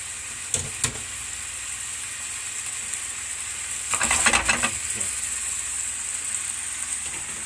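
Pork and hot Italian sausage frying in a pan give a constant close sizzle and crackle, with a few clattering knocks early on and a louder burst of spatter and stirring midway.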